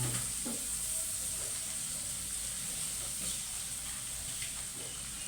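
Chopped onions sizzling in a hot pan while a chicken fillet sauce is made, giving a steady close crackling hiss with faint stirring scrapes throughout and no talking.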